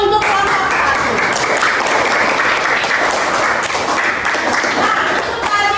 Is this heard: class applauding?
yes